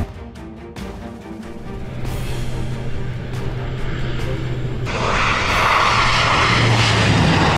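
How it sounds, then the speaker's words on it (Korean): Engines of Tuninter Flight 1153, an airliner leaving Italy for Tunisia, roar through takeoff. A steady, loud drone swells noticeably partway through and stays strong to the end, with no voices. "이탈리아를 출발해 튀니지로 이륙을 시작한다."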